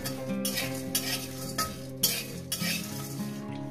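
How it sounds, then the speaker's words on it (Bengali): Spice masala fries in a pan with a steady sizzle, broken by a regular rhythm of spatula strokes scraping the pan, close and moderately loud with no talking. "আমার এই মশলাটা ভেজে নিয়েছি"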